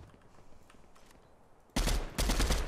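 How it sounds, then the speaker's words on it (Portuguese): Sniper rifle fire in the Fortnite video game: two loud, sharp broadband blasts, each rolling out briefly, bursting out after a quiet stretch of faint background game noise. "O cara tava de sniper lá, velho."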